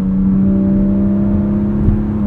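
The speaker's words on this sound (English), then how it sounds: "I get into it, and it pulls, it accelerates" Engine of a 2021 Porsche 718 Cayman GTS 4.0 with a six-speed manual, heard from inside during a drive: a steady, loud, continuous drone and hum as the car pulls and accelerates, with no talk over it.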